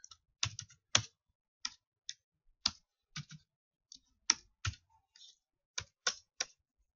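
Computer keyboard keys clicking in sparse, irregular taps, each press crisp and close, with quiet gaps between them and no other sound.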